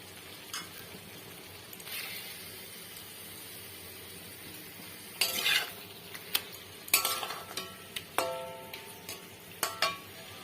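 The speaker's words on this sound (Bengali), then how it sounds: "এবারে আমি মাছগুলোকে এর মধ্যে দিয়ে দেবো।" Pomfret pieces added to a pan of sizzling mustard masala, faint background sizzle broken by clinks and scrapes of a spoon against the pan, louder clattering bursts in the second half.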